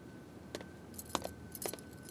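Car keys jangle in a household scene from a Bhojpuri film, several quick metallic rattles and clinks spread across the moment, close and crisp against a soft background.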